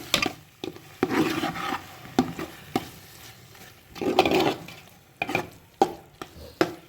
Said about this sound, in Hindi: अब आपने इसको जल्दी जल्दी हिलाते जाना